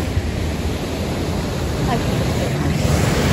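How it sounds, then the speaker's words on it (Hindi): Water pours steadily over a small waterfall nicknamed a mini Niagara Falls at a canal, a dense broadband rush with wind buffeting the microphone throughout. "देखिए आपका मिनी नायग्रा फॉल कैसा लग रहा है।"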